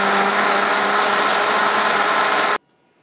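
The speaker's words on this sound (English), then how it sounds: "We've blended for a minute or two." An electric blender runs on its liquefy setting, pureeing hot birria sauce with a loud, dense, steady roar before it cuts off abruptly near the end.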